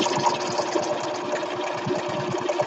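A sewing machine stitching a quarter-inch seam in quilt fabric, with a steady fast mechanical whir and close rhythmic needle ticking running without a break and no talking.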